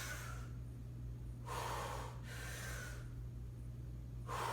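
Forceful breaths during a bodyweight squat exercise, with three or four distinct, fairly loud exhalations and inhalations in a slow rhythm over a steady low hum.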